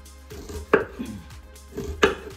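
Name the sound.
chopping white onion with a knife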